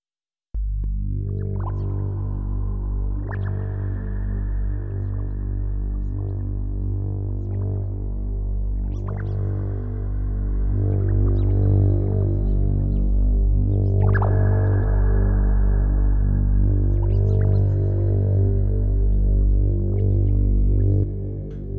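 Sustained drones from a VCV Rack modular synthesizer patch with Vult modules, layered with sliding tones, washed in long reverb, steady and loud throughout with no talking.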